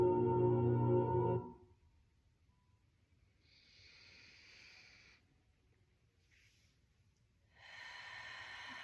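Gentle breaths blown out through the mouth during a guided energy session: soft airy exhalations come in two separate stretches after a louder rumble at the start.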